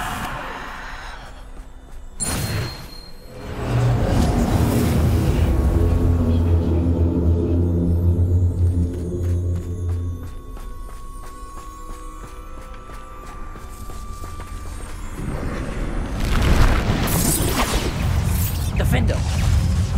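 A Bombarda blasting spell in Hogwarts Legacy goes off with a sharp burst, followed by a long low rumble under game sounds and faint voices, then another crackling burst near the end.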